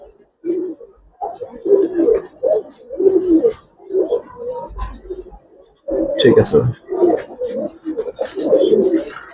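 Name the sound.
pigeons cooing, Birmingham Roller pigeons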